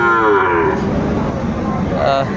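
A Sahiwal cow on a farm gives a long, loud, close moo that drops in pitch, followed by a shorter low call near the end.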